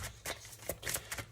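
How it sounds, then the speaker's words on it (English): Tarot cards are shuffled by hand in quick, soft riffling bursts, four or five brief papery flutters close and quiet with short gaps between. "So I'm just going to keep shuffling and pull hopefully 4 more cards"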